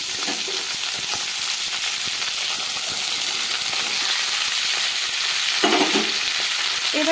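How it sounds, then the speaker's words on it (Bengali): Cauliflower, beans and carrots fry in garam masala over a medium flame, giving a steady, close sizzle with occasional stirring clatter from a utensil. "এবারে মিডিয়াম ফ্লেমে রেখে সবজিগুলোকে আমি একটু ভেজে নেব"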